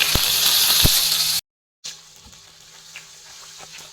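A tempering of mustard seeds, cumin, four dry red chillies and curry leaves sizzles loudly in hot oil with a couple of sharp pops, then cuts off and resumes as a much quieter hiss.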